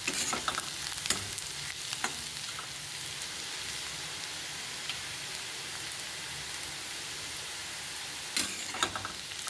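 Garlic, onion, cumin and asafoetida sauté in a pan with a steady, dense sizzle and occasional stirring scrapes, alone and close, with no voices.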